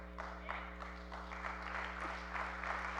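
A church congregation applauds during a service, a faint, steady wash of clapping that swells in soft bursts over a constant low electrical hum.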